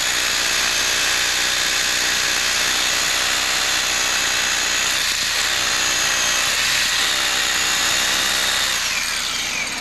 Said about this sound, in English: Go ahead, drill your hole.